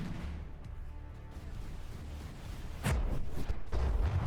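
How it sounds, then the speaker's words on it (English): Proximity-fused shells from warships burst in a naval battle in the game From the Depths, two heavy booming blasts landing close together near the end over a steady low rumble of combat. "we have proximity explosions there"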